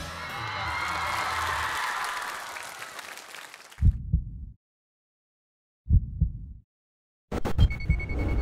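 A studio audience on the Happy Camp variety show applauds and cheers to welcome four performers, with loud, dense clapping for several seconds that fades, followed by short bursts of music.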